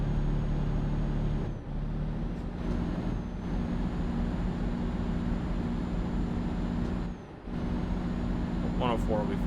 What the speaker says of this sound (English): Truck sounds louder than normal.